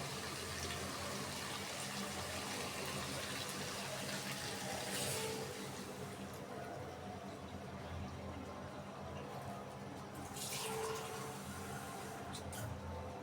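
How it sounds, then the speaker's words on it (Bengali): Water is poured into a pot of cooked spices for a beef-bone and bottle gourd curry, a quiet, steady rushing splash that runs unbroken for several seconds with slight swells and no speech. "আমি এখানে এক মগের চেয়ে বেশি পরিমাণ পানি দিয়ে দিলাম সিদ্ধ হওয়ার জন্য ভালো মতো"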